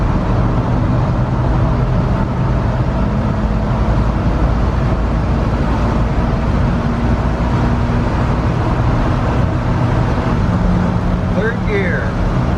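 A 1978 Dodge car accelerates at full throttle in a heavy, sustained engine roar heard from inside the cabin, with road and wind noise underneath and someone talking over it.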